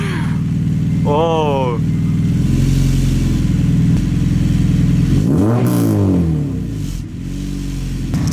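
A full race exhaust on an 8th gen Honda Civic Si: the engine starts and idles loud and close, then revs sharply up and back down before settling to idle again, with a voice exclaiming briefly.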